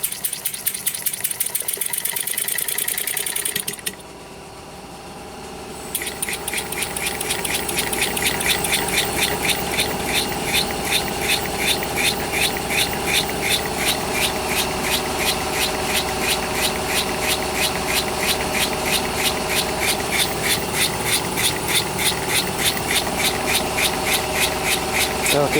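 A four-stroke engine converted to run on compressed air chugs loudly and steadily with a fast, even pulsing rhythm, briefly dropping near the start before picking back up and holding a strong, continuous beat.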